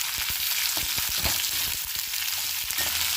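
Sliced onions sautéing in oil in a pan for mattar paneer masala, a steady broadband sizzle with scattered crackles and the clack of a stirring spoon, close and alone.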